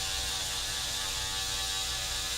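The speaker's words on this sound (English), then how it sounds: "I'm gonna pick up my wall custom shaver" An electric wall-corded hair shaver runs steadily through a haircut, a constant buzzing motor hum close up with no pauses and no talk.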